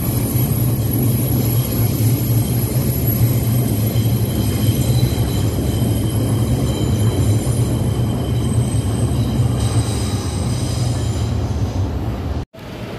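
A train sets off near barriers and containers placed for a rally at Mendiola, a loud continuous rumble with a bright high whine and squealing wheels lasting throughout before cutting off abruptly near the end.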